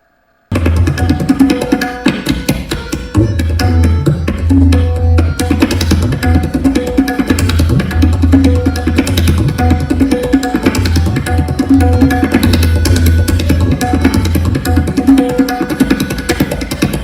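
Rapid tabla strokes roll in a fast, dense dhere dhere rela pattern, resonant bass drum tones pulsing beneath crisp, quick finger strikes, played loudly without talk.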